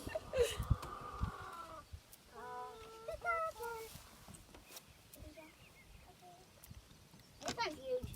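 Backyard farm chickens cluck and call in short bursts near a coop during egg collection, while people talk over them.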